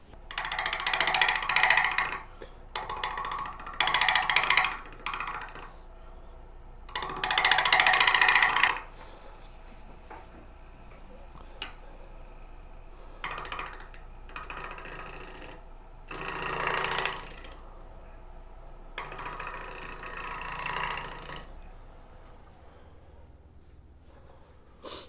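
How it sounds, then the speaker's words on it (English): A wooden bowl with an embedded nut and a live edge spins on a lathe while a shear scraper is drawn across it, giving repeated bursts of bright rasping scrape separated by quieter pauses over a faint motor hum. "And then I'm going to continue shear scraping this."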